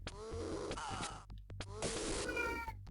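Cat meows from the Sega Genesis game Shadowrun, two drawn-out synthesized meows over a steady low game soundtrack hum, loud and close.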